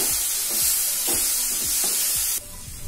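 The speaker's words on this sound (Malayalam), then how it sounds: "തക്കാളി ചേർത്തിട്ട് നന്നായിട്ടൊന്ന് ഇളക്കി കൊടുത്തു" Chopped tomatoes are stirred into sizzling soya chunks curry masala, with a bright continuous hiss and regular spatula scrapes about every half second, close and loud, with no voices.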